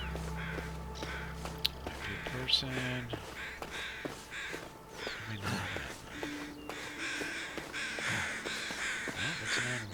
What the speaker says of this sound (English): See, there's an example of the birds.